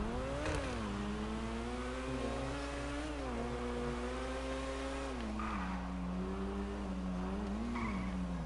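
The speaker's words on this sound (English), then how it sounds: "If you don't know what this car is in real life, this is the Koenigsegg Agera" A Koenigsegg Agera engine in a video game revs steadily at high pitch, climbing and dipping as gears change, with faint tire noise underneath, loud and continuous with no talk.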